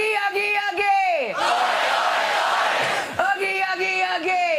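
Television studio audience chanting the Oggy Oggy Oggy cheer, a call voice answered by a loud roaring crowd response, then the call again, the exchanges alternating close and energetic.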